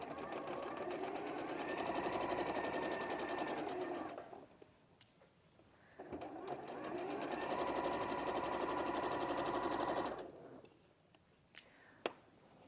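A domestic sewing machine runs in two long bursts of steady stitching along a curved fabric seam, pausing in between, with a faint click near the end and no talk.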